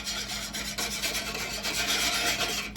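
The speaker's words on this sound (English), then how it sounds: "So let's start whisking it." Tofu steak marinade with liquid smoke is whisked in a bowl, giving a continuous close rasping and rubbing swish that stays even and fairly loud for the whole stretch.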